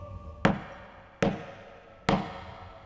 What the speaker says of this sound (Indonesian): beliau mendengar suara pintu kamar diketuk dari luar.